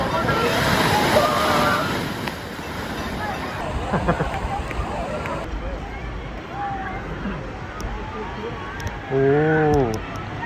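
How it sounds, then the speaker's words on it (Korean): Waves washing onto the seashore at Samcheok, Gangwon-do, Korea, form a steady, moderately loud wash of surf with wind, while people's voices and a brief tonal sound come through near the end. "여기 바닷가 왔어요. 바닷가."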